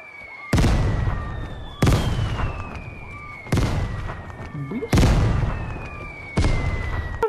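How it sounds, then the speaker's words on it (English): Mortar strikes landing in Vigor on PlayStation 5, five loud, sharp explosions spaced roughly a second or more apart, each with a heavy thud and a trailing decaying rumble, with a faint high whistle in between. "I'm dropping a mortar on this bitch."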